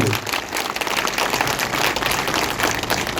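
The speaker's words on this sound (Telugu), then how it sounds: "దాన్ని ఎంతమంది హర్షిస్తున్నారో చప్పట్ల ద్వారా నాకు తెలియజేయాలని చెప్పి కోరుకుంటున్నాను" Dense, steady applause from an audience at a political party meeting fills the whole stretch, a broad continuous patter of many hands at moderate loudness with a faint murmur of voices beneath.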